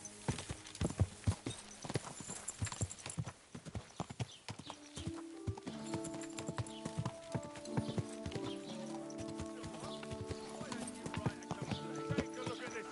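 Horse hooves clip-clopping in Kingdom Come: Deliverance II, a rhythmic run of close hoofbeats that later sits under a sustained musical tone, with voices talking over it.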